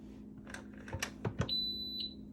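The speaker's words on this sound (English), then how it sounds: "And then you'll hear a beep once it locks." A few soft clicks and clunks as a 10-quart pressure canner's lid locks are followed by a steady high-pitched electronic beep, then a second shorter beep, with a low hum underneath.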